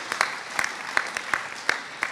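An audience applauds a speech by MK Yuli Yoel Edelstein, many hands clapping in a steady wash with a few louder individual claps punching through at regular intervals, moderately close and with no voices.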